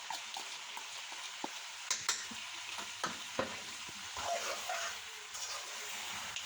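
Salt, chili powder, turmeric, cinnamon and cloves frying in a pan, a close, continuous sizzle broken by light ticks and scrapes of stirring, with no talking.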